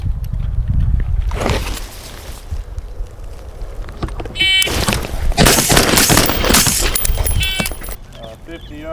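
Pistol or rifle shots crack out at a police qualification range, several sharp loud reports in bursts with clattering handling noise between, while people talk nearby.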